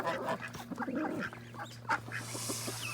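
A domestic duck quacks and calls repeatedly in a farmyard, wanting food, with honking from nearby geese; the fowl sound loud and close in a busy, overlapping chorus.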